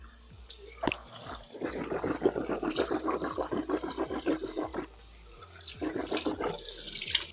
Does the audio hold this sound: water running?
yes